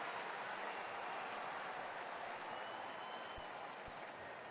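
A baseball stadium crowd at a Giants–Diamondbacks game applauds in a steady, dense wash of clapping and cheering that holds at an even level throughout.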